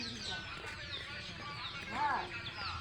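Native free-range chickens from a home flock of about a hundred large birds cluck faintly amid background noise, with a slightly louder burst of calls partway through.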